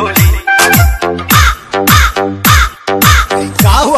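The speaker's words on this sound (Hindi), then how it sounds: "कौवे का आवाज आ रहा है भाई" A crow caws loudly and close in a rapid series of about seven or eight harsh, evenly spaced calls with no other sound around them.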